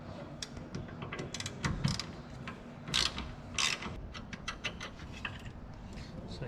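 A 12 mm ratchet wrench works a brake line fitting during a rear big brake kit install on a 2004-2008 Acura TL, giving a few quick bursts of clicking between scrapes and handling noises, close but fairly quiet.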